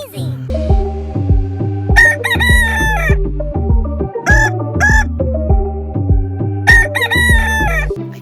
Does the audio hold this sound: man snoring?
no